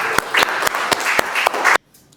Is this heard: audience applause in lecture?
yes